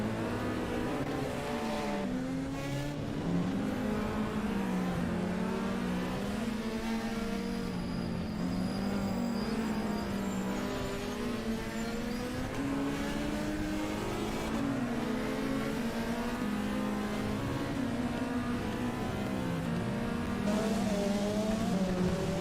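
On-board engine of a racing car climbing a bumpy course at the Coppa Paolino Teodori, a European Hill Climb Championship round. A loud, steady roar rises and falls through repeated gear changes without pause.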